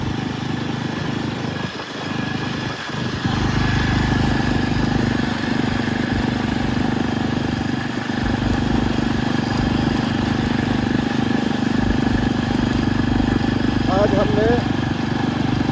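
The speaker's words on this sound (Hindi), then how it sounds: "इस बुलेट पे हम पहली बार हमारे खेत में जा रहे हैं" Royal Enfield Bullet motorcycle ridden along the way to a farm, its steady engine drone running continuously and loud throughout, with someone talking over it at the start.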